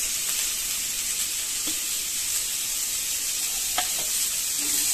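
Onion and tomato sautéing in a pan for an egg curry (anda thali). A steady sizzle runs throughout, with a few faint clicks of stirring and no talking.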